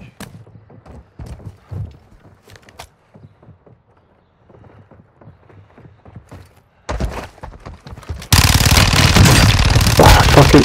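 Incoming gunfire in a video game firefight, scattered sharp shots and thuds at first, then a sudden loud sustained barrage of rapid automatic fire that overwhelms everything near the end.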